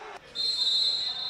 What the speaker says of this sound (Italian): c'è il fischio del direttore di gara, parte Scheleschi, Basile allontana e Biciac